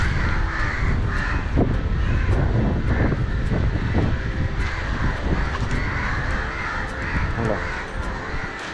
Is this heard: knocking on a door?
no